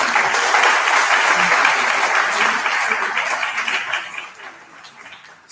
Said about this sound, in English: Please do give him another round of applause